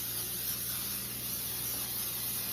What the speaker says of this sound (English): we're going to spray this baking dish really good.